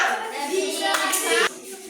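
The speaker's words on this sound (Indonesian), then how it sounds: "Tepuk tangan kiri kawannya." Children clap their hands against a friend's hands during a classroom activity, a few brisk slaps heard close over a bed of chatter and a teacher's voice.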